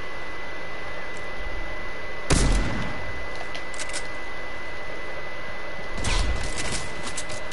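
A sniper rifle shot in a squads shooter video game rings out as a sharp, loud crack, followed by a second similar blast a few seconds later over a steady background hum.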